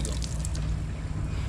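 Water poured into a container to mix a crop spray for eggplant and chili plants, a steady close trickle and splash with a low hum beneath, brief and continuous.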